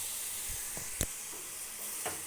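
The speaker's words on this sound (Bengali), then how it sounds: "একটু শুকনো শুকনো লাগছে, তাই আমি একটু জল দেবো এর মধ্যে, নাহলে মশলাটা জ্বলে যাবে" Ground coriander spice sizzling in a pan as a little water is added, a steady soft hiss with a few faint knocks and stirring clicks, heard alone.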